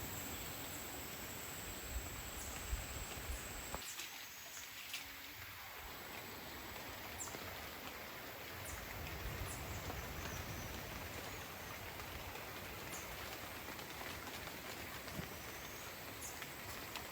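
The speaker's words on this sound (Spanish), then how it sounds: "Nos vamos a meter pronto porque empieza a llover" Rain falls steadily on the Chocó jungle in Colombia, a dense even hiss throughout with faint bird calls, briefly thinning for a moment before resuming.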